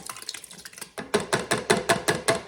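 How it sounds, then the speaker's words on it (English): A can of petite diced tomatoes empties into a soup pot for tomato soup, with a few soft sounds followed by a run of regular, wet glugging plops close by. "We're going to go ahead and put the first can of tomatoes in."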